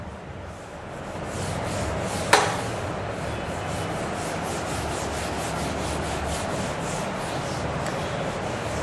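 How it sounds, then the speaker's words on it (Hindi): A whiteboard or chalkboard being wiped clean during a maths lesson, a steady broad rubbing swish running almost continuously, with one sharp tap partway through and no talk. "इसको रब कर देता हूं अब मैं"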